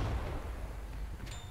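A BS-3 field gun fires in the Men of War 2 video game, hitting a KT tank: one heavy, low booming shot with a rumbling tail, followed by a faint metallic ring.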